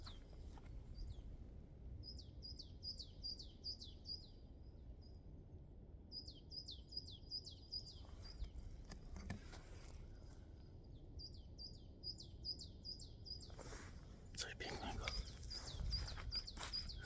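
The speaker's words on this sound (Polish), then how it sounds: "Ale słychać te ptaki pięknie." Small birds sing in a winter forest, with repeated bursts of rapid high chirping trills separated by pauses, against a steady low rumble of a distant aircraft passing overhead.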